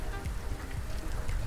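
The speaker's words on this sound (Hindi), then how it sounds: "और अचानक से बारिश शुरू हो गई है, पता भी नहीं चला।" A sudden rain shower falls around a house outdoors, heavy and steady with dense patter on surfaces close by and no talking over it.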